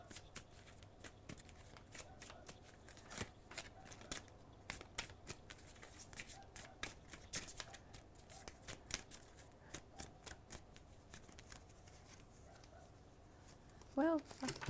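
Tarot cards shuffled and drawn during a card reading, a steady run of soft papery riffles and flicks close by with quiet talk underneath, ending in a brief brighter tone.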